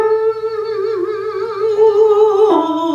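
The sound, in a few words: voice imitating a squeaky door on an ooh vowel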